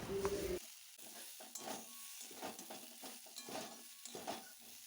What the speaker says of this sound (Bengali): মশলাটা এবার আমি সব কিছুর সাথে ভালো করে কষে নেব।